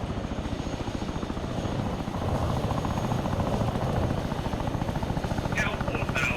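A helicopter in a 6th Airborne air-assault video game runs with a steady, close rotor thump and engine roar that grows slightly louder midway and holds throughout.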